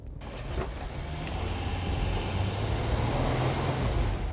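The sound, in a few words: Toyota Land Cruiser 300 driving off road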